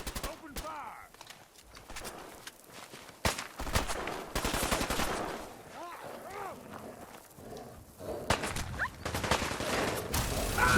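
Gunfire in Fallout 4 during a fight, rapid bursts and single shots repeating at close range across the clip, with voices and creature cries mixed in.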